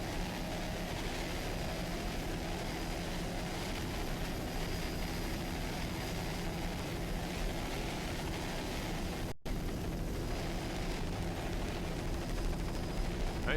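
Mercury-powered racing powerboat at a Corpus Christi powerboat shootout, its engine a continuous loud roar that fills the whole stretch with one brief dropout.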